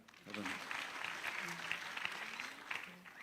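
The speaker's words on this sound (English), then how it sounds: "Please give them a big clap" An audience at a family gathering claps for the siblings being introduced, a sustained, moderately faint round of applause with voices talking over it.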